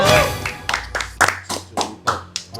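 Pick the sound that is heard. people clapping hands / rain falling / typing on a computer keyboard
people clapping hands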